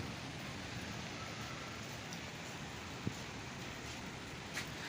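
Steady, dense hiss of heavy rain pouring down continuously, with a faint isolated tap or drip partway through.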